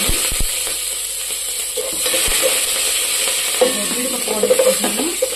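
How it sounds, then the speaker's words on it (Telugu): Dried red chillies and curry leaves hit hot oil with onions in a pan, making a steady loud sizzle with stirring scrapes and a few sharp knocks at the start, close by and with no speech. "ఎండుమిర్చి వేస్తున్నాను. వేగిపోయింది కదా, కరివేపాకు వేసుకుంటాను."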